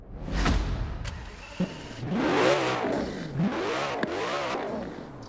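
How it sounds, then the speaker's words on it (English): A Koenigsegg Agera engine in a video game starts and revs up and down in several rising and falling sweeps, loud and close, with no talk. "So what I'm going to do is get in this thing and start it up."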